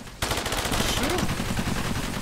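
Rapid automatic gunfire rattles loudly and continuously in the Cepheus Protocol strategy game, a dense stream of shots starting abruptly and holding steady throughout.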